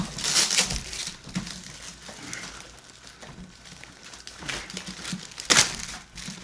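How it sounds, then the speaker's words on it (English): Heavy wrapping is torn and crinkled off a package in repeated loud bursts of crackling plastic or paper, with quieter rustling between them and no talk. "there's a lot of wrapping. Yeah, still unwrapping it."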